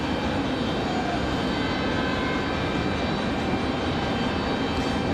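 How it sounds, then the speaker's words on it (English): Endeavor Air flight 4780 departing Raleigh-Durham for Indianapolis, a steady broadband airliner engine roar held at even loudness throughout, fairly distant and continuous with no voices. "The last departure off to Indianapolis, Endeavor 4780."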